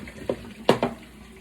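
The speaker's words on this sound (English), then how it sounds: "So I'm going to drain the water." Hot water from boiled potatoes pours out of a pot through a strainer into a kitchen sink, a few brief splashing surges at close range with no talk over them.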